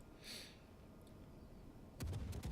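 Hipper heavy cruiser guns firing in the World of Warships naval game: a muffled, distant salvo boom early on, then a louder cluster of sharp gun blasts near the end, with no voices.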